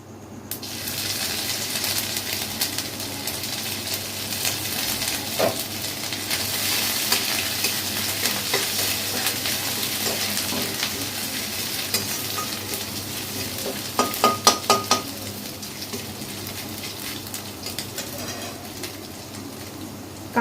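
Ginger dropped into a frying spice tempering for a vegetarian potato curry sizzles steadily at moderate volume, with light stirring and faint birdsong in the background.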